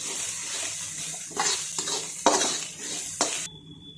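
A spoon stirs spices into paneer bhurji in a sizzling pan, with a steady frying hiss underneath and several distinct scraping strokes against the pan, close up and without talk.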